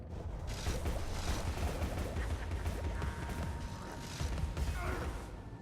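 Rapid weapon fire in the game Alice: Madness Returns, a dense rattling stream of mechanical shots that runs continuously and fairly loud, with no talk over it.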